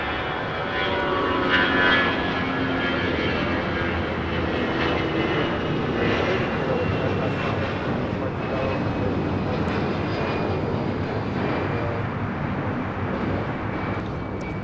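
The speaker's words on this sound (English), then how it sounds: "2205 taking off to Dallas Fort Worth on an A320" A Delta Air Lines Airbus A320 takes off from Los Angeles airport with a sustained, fairly loud jet engine roar that rises slightly early on and then holds steady, with no talking.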